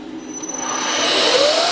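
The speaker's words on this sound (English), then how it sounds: "1/4 inch end mill, 4 flutes, 2000 RPM, 250 thou depth of cut." A 1/4 inch four-flute end mill cuts metal at 2000 RPM with a 250 thou depth of cut, giving a steady rising whine and hiss that swells in loudness, close and alone.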